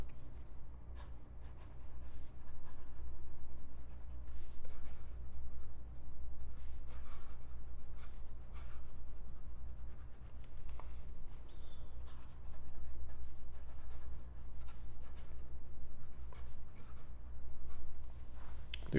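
Scribo Feel fountain pen with a fine flex nib writing quickly across paper, a steady close scratching of nib strokes with short pauses between words, heard alone without talk.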